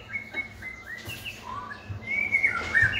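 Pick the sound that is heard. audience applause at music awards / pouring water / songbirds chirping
songbirds chirping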